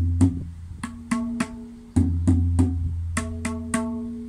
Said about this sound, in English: but they're called tabla drums